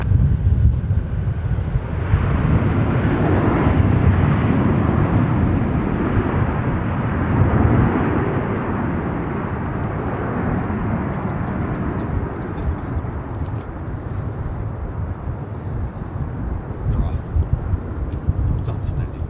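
A Delta airliner takes off from runway 17 at Minneapolis–St. Paul Airport, a broad, steady jet roar that swells after a couple of seconds and then holds loud before easing slightly, with wind buffeting the microphone.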